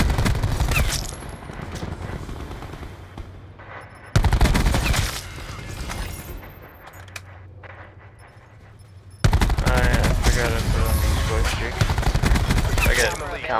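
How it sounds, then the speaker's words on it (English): Rapid automatic gunfire erupts in loud bursts in a multiplayer shooter match, with a quieter stretch in the middle between volleys and players talking underneath. "They're shooting my body now. Yeah, they're shooting our bodies."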